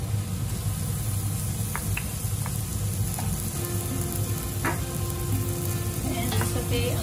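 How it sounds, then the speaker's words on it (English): Onion and ginger sautéing in a pan for pork red curry, a steady loud sizzle with occasional stirring scrapes and clinks throughout. "Sauté until softened. Then add the onion"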